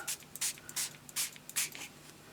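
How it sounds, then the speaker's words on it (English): A spray can misting a handmade mixed media tag gives about five short, soft hissing bursts in a steady rhythm, fairly quiet and close, with no talking. "I'm just going to spray the whole thing."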